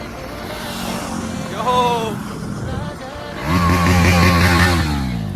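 Motorcycles on a Sunday group ride along the road give a steady engine drone with wind rush, then a louder, rising rev of a nearby bike as it accelerates over the last couple of seconds.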